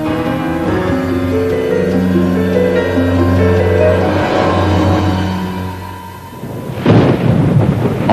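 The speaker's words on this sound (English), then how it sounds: "a storm swept across the desert outside Roswell" Thunder rolls in a deep, sustained rumble over the desert outside Roswell, New Mexico in summer, loud and continuous beneath a droning musical score, with a fresh crack and surge near the end.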